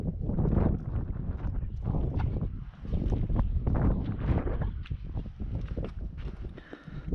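Steady wind roars and buffets across a kayak out on the water during a striper fishing trip, a loud, continuous low rumble with gusty surges and no clear voices.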